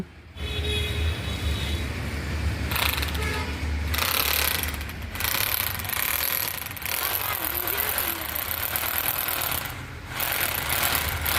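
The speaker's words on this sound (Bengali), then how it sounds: "ড্রিল করার ভিডিওটি করে ফেললাম" A loud, close power drill grinds continuously, pausing briefly a few times before resuming, with a rough motor roar throughout.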